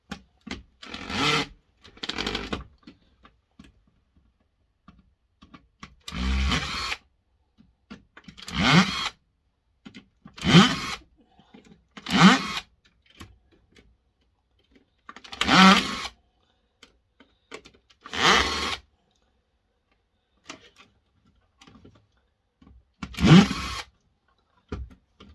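A powered screwdriver removes screws from a hi-fi unit's circuit board in short, separate whirring bursts, about ten of them, spaced with silent gaps, close and fairly loud.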